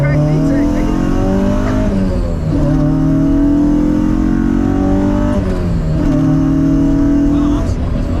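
Honda Civic with an H2B engine swap pulling hard in first gear, engine note climbing in repeated rising sweeps between shifts, loud and close from inside the cabin with people talking over it.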